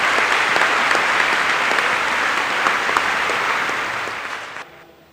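A large crowd in a college auditorium bursts into sustained applause, loud and dense throughout, then fades and cuts off near the end.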